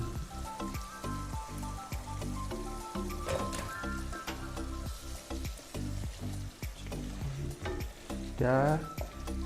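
Sizzling and scraping of spices and chicken being stirred in a hot pan, with repeated utensil knocks and clatter throughout, plus a brief burst of talk near the end.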